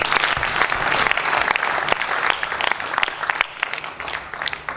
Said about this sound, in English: So join me in clapping for God.